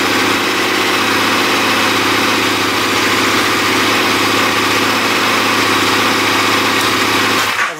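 KTM Adventure motorcycle engine (1050, 1090, 1190 or 1290 model) running at a steady, loud idle close by, with a constant throb and rumble throughout and no talk, cutting off abruptly at the very end.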